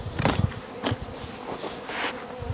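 Honeybees buzz around hives in an apiary at Kettle Haven Ranch, a near, wavering drone rising and falling in several swells as individual bees pass close, with no voices.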